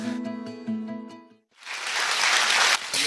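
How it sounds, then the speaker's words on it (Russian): Studio audience breaking into applause on a Russian-language talk show, following a short musical sting that cuts out; the clapping swells to a full, dense wash and carries on steadily to the end. "Аплодисменты и от вас тоже"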